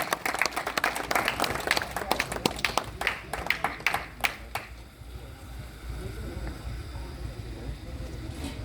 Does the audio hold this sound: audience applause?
yes